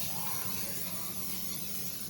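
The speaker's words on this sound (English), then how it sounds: "Straight up cooking spray." A steady, close hiss of an aerosol cooking spray held down for about two seconds without a break.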